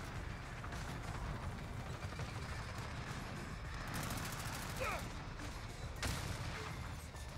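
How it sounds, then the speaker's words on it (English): Sentry guns firing in Modern Warfare, distant rapid automatic gunfire rattling continuously under a dense battlefield din, with a louder sharp burst late on. "Oh, there's sentry guns over there."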